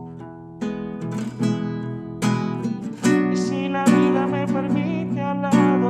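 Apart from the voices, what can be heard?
acoustic guitar arpeggio mixed with strumming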